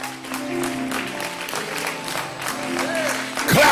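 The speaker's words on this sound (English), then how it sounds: "Clap your hands and take 2 seconds and praise him." A church congregation claps their hands in praise during a worship service, steady dense clapping from many people filling the room with music and voices underneath.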